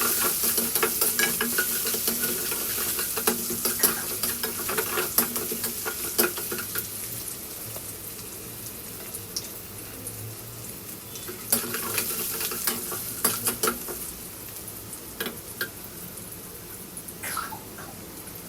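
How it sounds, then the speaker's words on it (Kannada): Onions fry in oil toward golden brown for vegetable semiya, a continuous close sizzle broken by repeated spatula scrapes and clinks against the pan, busier in the first seconds, no voices. "ಸೊ ಆನಿಯನ್ನೂ ಗೋಲ್ಡನ್ ಬ್ರೌನ್ ಆದ್ರೇ ಚೆನ್ನಾಗಿರುತ್ತೆ. ಸೊ ಸ್ವಲ್ಪ ಚೆನ್ನಾಗಿ ಆಯಿಲಲ್ಲಿ ಫ್ರೈ ಮಾಡೋಣ"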